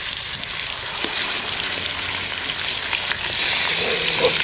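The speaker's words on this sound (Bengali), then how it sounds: "তেল গরম হয়ে গেছে, এখন মাছগুলো ভেজে নেব" Large pieces of Roopchand fish fry in hot oil, giving a loud, steady, close sizzle that fills the whole stretch with occasional faint pops.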